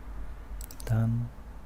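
A computer mouse clicks a few times in a quick cluster, sharp and close but faint, followed at once by a short low voiced sound.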